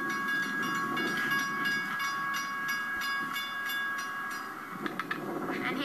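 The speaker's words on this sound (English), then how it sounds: "we got another train coming" A model train rolls along its track with a steady whirring hum and light repeated clicks, a thin high whine running underneath, the clatter growing a little louder near the end.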